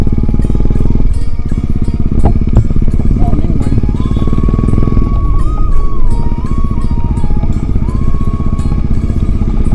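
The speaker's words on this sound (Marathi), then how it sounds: "बुलेटने रायडिंग करण्यात काय वेगळीच मजा असते." A Royal Enfield Bullet motorcycle being ridden on the road, its low engine rumble continuous and loud throughout, with steady road and wind noise and a few clattering knocks along the way.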